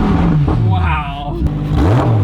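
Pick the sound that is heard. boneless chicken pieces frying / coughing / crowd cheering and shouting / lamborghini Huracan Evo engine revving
lamborghini Huracan Evo engine revving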